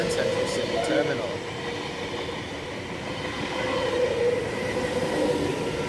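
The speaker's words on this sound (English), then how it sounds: "Here we have a Central Sydney Terminal service passing platform number 1" An NSW Trainlink V-set passenger train rolls past a platform at Cowan, a loud continuous rumble of wheels on rail with rhythmic clatter and a brief squeal early on, heard up close with steady intensity.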